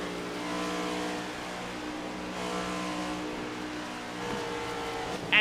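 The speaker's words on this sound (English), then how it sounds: "on board with Porter into turns 1 and 2 as Benson clears by" Race cars at Darlington in a racing video game, a steady loud engine drone with layered whining harmonics from several cars running together, briefly swelling near the end.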